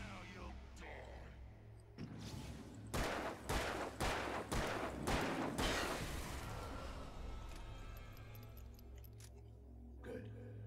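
Gunshots from a handgun in the Alan Wake video game, a string of about six loud, evenly spaced bangs ringing out over a low droning backdrop before it fades to quiet tones.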